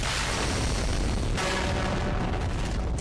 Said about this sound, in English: That is how you create an explosion without having to blow up a town